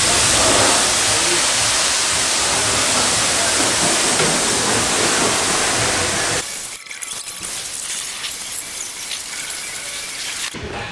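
Water spraying onto a washed Jeep, a loud steady hissing rush of water that cuts off partway through, leaving quieter background noise.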